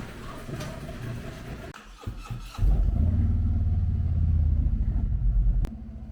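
A Harley-Davidson Street Glide motorcycle rumbles nearby, a brief stutter giving way to a deep, steady low throb as it pulls away and rides on, ending with a sharp click near the close.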